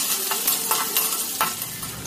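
Chopped green capsicum hisses and sizzles in hot oil in a kadai while a spoon stirs it, with a steady close frying crackle and a few scraping strokes.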